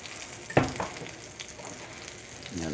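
Parmesan-crusted tilapia frying in butter in a pan, a soft continuous sizzle close by with one sharp utensil clack near the start, quiet and without talk.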